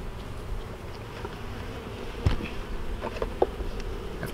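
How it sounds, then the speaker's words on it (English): A dense, steady hum of many honey bees buzzing close by in a crowded hive box, continuous and droning, with no voices over it. "But a lot of bees in this box."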